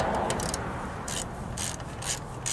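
Ratchet wrench tightening the battery hold-down on a 2013 Lexus ES350, with steady clicking strokes in short bursts close to the mic, no talking.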